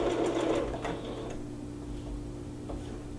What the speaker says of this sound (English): I'm going to sew an inch seam allowance on both sides.